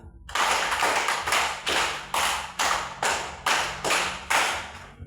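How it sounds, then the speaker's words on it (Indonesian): Hands clap in a group, with roughly ten sharp, evenly spaced claps in a steady rhythm, each ringing briefly in a room. "tepuk tangan 5 kali"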